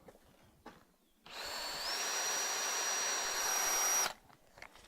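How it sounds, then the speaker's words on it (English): A power drill with a masonry bit drills holes, whirring steadily for about three seconds, close and fairly loud, its pitch rising as it spins up, then stops abruptly. "So all I'm going to do now with the masonry drill bit is get those 2 holes drilled."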